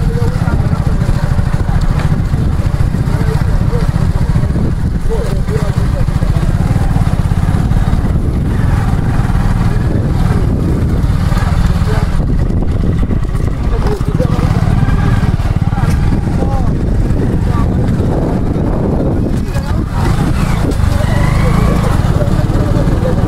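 A Hero Glamour and a Kawasaki motorcycle race side by side, a steady loud engine drone with wind rumble throughout, revving rising and falling, close, while people talk and shout over it.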